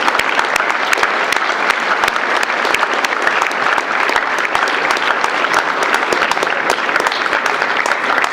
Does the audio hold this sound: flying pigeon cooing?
no